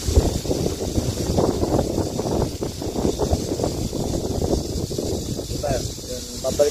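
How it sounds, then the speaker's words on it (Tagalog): Strong outdoor wind buffets a microphone with a continuous loud, rumbling roar, and a voice speaks underneath throughout. "Kaya pag ganyan pong mahangin, di ba po, sakit sa tenga"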